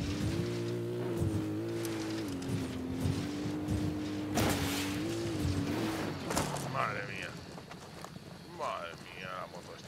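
A motorbike engine drones and revs in the Ghost Recon Wildlands video game, its steady hum shifting in pitch for several seconds before dropping away amid skids, game effects and a voice.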